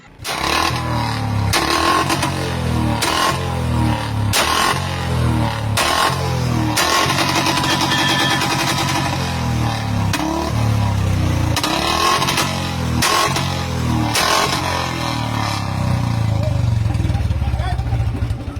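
Bullet motorcycles revving loudly during a Punjab Police checkpoint, a continuous rough engine roar with repeated throttle blips and bursts, close and dominant throughout, with clattering.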